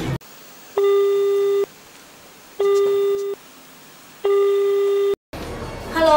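A telephone call tone rings back three times in a steady on-off pattern, a loud electronic beep repeated at even intervals, followed by a click as the line connects and a voice starts talking.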